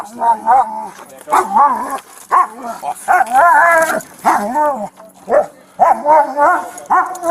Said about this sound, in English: Send the dog to bite you.